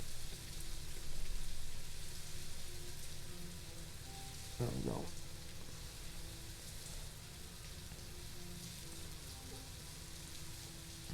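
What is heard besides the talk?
rain falling in the video game New World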